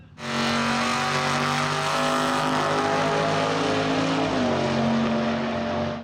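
Vintage drag racing car at Bandimere Speedway roaring steadily at close range, a loud sustained engine drone with a slight pitch shift midway, no talking.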